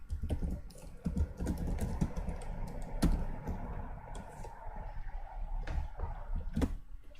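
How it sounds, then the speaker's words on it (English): Steady bursts of key presses on a computer keyboard, close but quiet, with a few louder clacks and no voices. "It's hard to talk and type at the same time."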